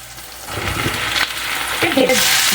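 Zucchini and ridge gourd fry in a pan for a Bengali rohu fish posto dish, giving a broad steady sizzle with a few stirring scrapes and clatters near the end.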